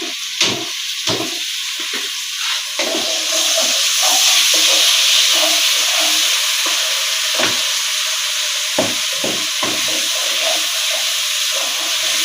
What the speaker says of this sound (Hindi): अब हम प्याज फ्राई करेंगे